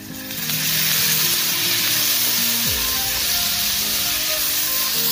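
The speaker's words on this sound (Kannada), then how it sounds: "ಈರುಳ್ಳಿ ಫ್ರೈ ಆಗಿದೆ, ನುಗ್ಗೆ ಹೂವು ಹಾಕ್ತಾ ಇದ್ದೀನಿ." Drumstick flowers hit a pan of frying onion with a loud, close hiss and sizzle that settles into a steady crackle, with a low hum in the background and no voices.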